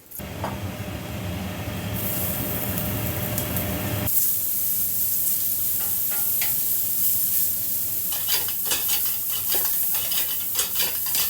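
Beef for stroganoff searing in a little peanut oil over high heat, a loud, steady, close sizzle that fills the whole stretch, with scattered clinks and scrapes of stirring joining in toward the end.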